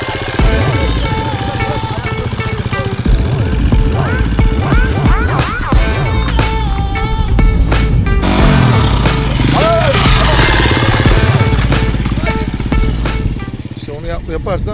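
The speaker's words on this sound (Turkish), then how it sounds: "Motora biniyorum şu anda, inanılmaz." Enduro motorcycle ridden off road, its engine revving and rising and falling in pitch continuously and loudly at close range, with a voice talking over it throughout.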